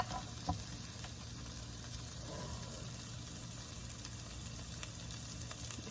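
A steady, quiet sizzle of an omelette frying in a pan, continuous hiss with faint occasional pops, no voices.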